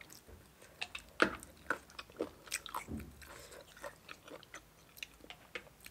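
Someone eating a spicy papaya salad with crunchy snails, producing irregular crisp bites and wet chewing crunches close to the microphone, with no talking over them.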